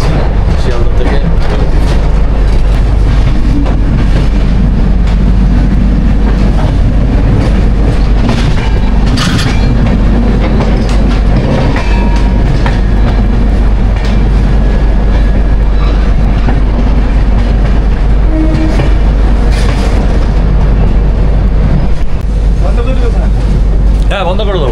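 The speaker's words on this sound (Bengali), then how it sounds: "রাজধানী এক্সপ্রেস করে আমরা যাচ্ছি শিয়ালদা থেকে" Rajdhani Express underway out of Sealdah, a loud continuous rumble of the carriage with rhythmic wheel clatter and occasional sharper squeals and clanks, heard from on board with voices talking over it.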